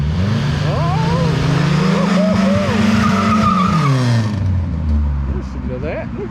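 Tires on a 1987 Ford F150 pickup squeal and skid in a long, loud, continuous screech under a revving engine, with people talking over it.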